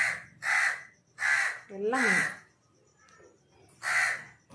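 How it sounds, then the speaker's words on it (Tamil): A crow caws repeatedly, with about five loud, harsh calls in an uneven rhythm; a person speaks briefly between them. "காக்கா வேண்ட கத்துது"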